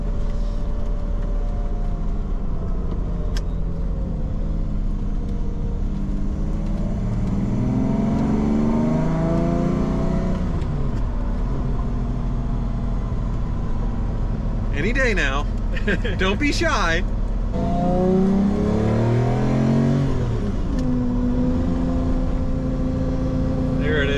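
A Ferrari 458 Spider engine revs in two rising and falling bursts, loud and nearby, with people chatting over and between the revs.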